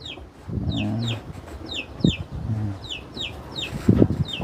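Chickens cluck in low, stuttering bursts close by, with sharper chirping calls repeating steadily above them and a couple of louder flurries near the end.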